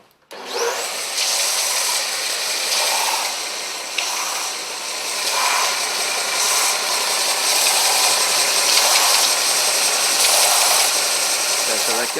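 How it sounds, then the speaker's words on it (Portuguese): A steady electric sander whirs loudly and continuously on a wooden slat, with a broad hissing grind that swells and eases slightly as it works. "Aí você liga a lixadeira."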